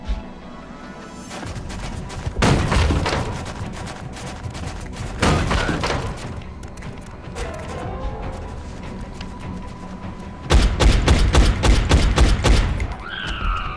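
Gunfire in the tactical combat game XCOM: Enemy Unknown: several sharp bursts of rapid shots break out at intervals, loud and close, with crashing impacts and quieter stretches between volleys.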